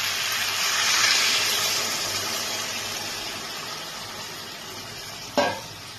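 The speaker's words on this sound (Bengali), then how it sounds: "এবার আমি এর মধ্যে খুব অল্প পরিমাণ জল দেব।" Water goes into a pan of sizzling mixed vegetables for a Bengali vegetarian chorchori: a loud continuous fry hiss swells, then settles, and a brief clink sounds near the end.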